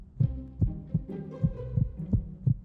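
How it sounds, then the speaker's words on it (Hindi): Slow, regular heartbeat thumps repeat about every half second, soft low double-beats with a faint humming undertone and no voices. "मुझे उसके दिल की धड़कन सुनाई दे रही है।"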